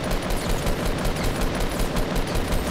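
Dense gunfire rattles without pause in the Fortnite video game, rapid shots overlapping into a loud continuous fusillade with no talk.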